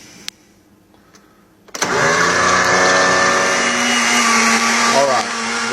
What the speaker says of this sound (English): They've been blending for 2 minutes.